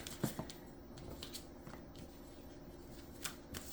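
Playing cards being shuffled by hand, a few brisk riffling bursts and soft flicks, close up and fairly quiet against low room noise.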